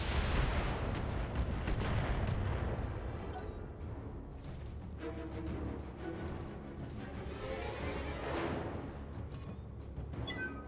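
Heavy autocannon fire from a mech's AC-20 in the BattleTech video game, with deep booming blasts and rumbling impacts building and then sustaining through loud, dense battle noise.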